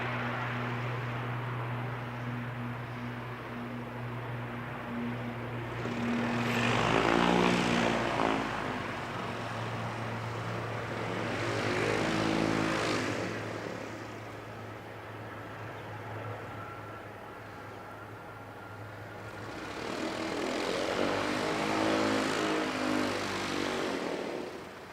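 A propeller aircraft runs on Runway 29 at the Canterbury Aero Club, its steady engine drone swelling and fading in several broad waves over half a minute, moderately loud at a distance, with no voices.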